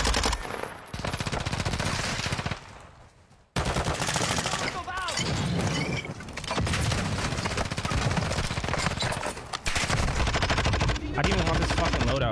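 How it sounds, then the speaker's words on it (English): Dense, loud video game gunfire in an online shooter match, with rapid automatic bursts and single shots firing almost without pause, dipping briefly once before resuming at full intensity. "Oh, getting shot at."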